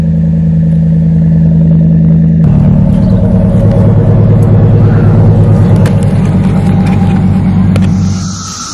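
A 2008 Dodge Ram pickup with a Flowmaster exhaust gives a deep, steady rumble that idles and swells slightly, loud and close, with a faint clatter before it fades at the end.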